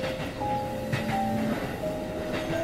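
Steady train rumble with rails clattering in a horror video game set aboard a commuter train, running continuously and fairly loud with faint tonal whines drifting above the low roar.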